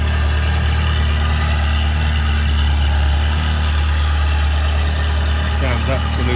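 A Ferrari 360 Spider's engine idles with a steady, low rumble and constant drone, heard up close, with faint background activity.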